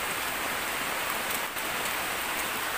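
Steady rain pours over a forest trail on a solo camping trip, a dense, even hiss of drops hitting the ground and leaves, close and continuous with no voices.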